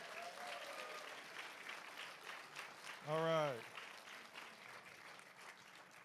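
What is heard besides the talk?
audience applauding a panelist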